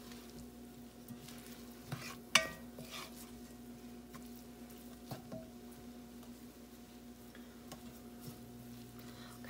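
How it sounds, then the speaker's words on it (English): Spices toast in a pot for homemade chili with a faint, steady sizzle, broken by a few light scrapes and clinks of stirring over a low background hum. "You add that and kind of stir it together and let it toast a little bit."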